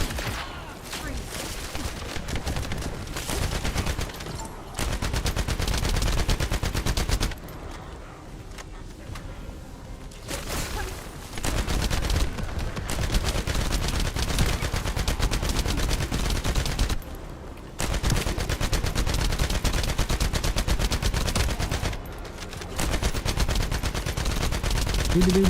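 Loud continuous automatic gunfire and explosive impacts in a looter shooter video game, in long sustained stretches broken by brief quieter gaps, with a voice talking over parts of it.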